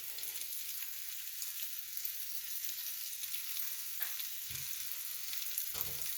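Garlic sizzles and fries steadily in a hot pan with spinach, making a continuous close crackle with a few soft stirring bumps and no talking.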